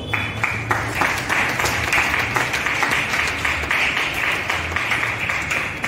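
A church congregation applauds steadily in a reverberant hall, a dense even patter of many hands clapping without pause for several seconds, with faint voices underneath.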